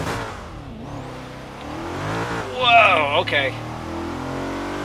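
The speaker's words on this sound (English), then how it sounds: "let's throw this Porsche and see how it does." Porsche Cayenne Turbo in Forza Horizon 3 accelerating uphill on a mountain road, a steady engine drone rising in pitch with a brief louder surge midway, heard under a voice.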